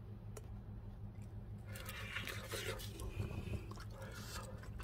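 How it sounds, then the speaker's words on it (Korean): Close, soft squishy chewing of air-fryer roasted sweet potato. The bites are faint and irregular, with a busier burst of mouth sounds in the second half and no talking. "이제 맛있게 먹어보겠습니다"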